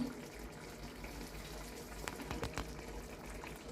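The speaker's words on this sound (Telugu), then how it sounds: "ఉడుకుతుంది." Ridge gourd and prawn curry simmers in a covered pan, a steady soft bubbling with a few sharper pops and a lid or spoon clink near the middle, close and alone.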